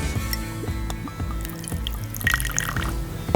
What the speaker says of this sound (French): un petit peu de vinaigre de Xérès